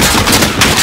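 Rapid, dense machine gun fire in the video game Call of Duty Modern Warfare, loud and continuous through a short burst.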